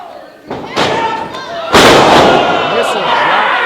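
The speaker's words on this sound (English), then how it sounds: "Oh, went for that powerbomb." A heavy thud of a wrestler landing from a powerbomb in a backyard-style alley fight, booming impacts amid crowd noise and an excited commentator talking throughout.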